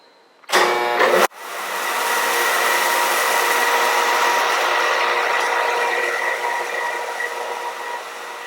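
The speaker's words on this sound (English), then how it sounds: "It is a multi-feed machine." Multi-feed circular knitting machine in a knitting lab, starting with a brief loud clunk then settling into a steady, dense whirring hum that runs on continuously, close and loud with no talk.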